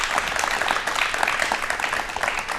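An audience at a televised talk show claps together in a sustained round of applause, a dense, even patter of many hands lasting a few seconds.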